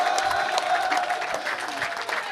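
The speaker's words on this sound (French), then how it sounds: "Sous vos acclamations, s'il vous plaît. Et standing ovation" Applause and cheering from a crowd giving a standing ovation at a student rally in Senegal, a dense, loud, continuous wash of clapping with no pauses.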